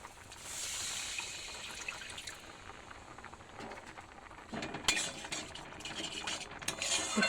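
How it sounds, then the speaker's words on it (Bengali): A little water is poured into a pan of spiced fish curry, giving a soft trickle and sizzle that builds to brief clinks and stirring of utensils against the pan, close and moderate in level. "এবার আমি অল্প একটু জল দিয়ে দেবো"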